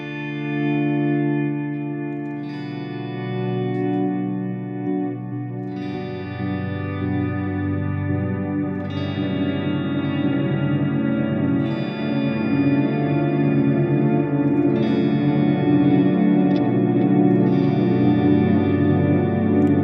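Guitar chords ring out under heavy delay, repeats piling up into a thick, smeared wash that blurs each change into the next, steady and loud.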